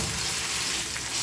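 Ground ginger, garlic, chilli and coriander paste sizzling with onions on an iron tawa, a dense steady frying hiss with faint stirring scrapes, close and continuous with no talk.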